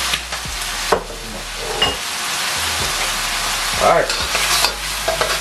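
Fried rice with soy sauce is stir-fried in a pan, making a loud, continuous sizzle broken by repeated scraping and clattering strokes of the spatula, and a brief spoken word is heard.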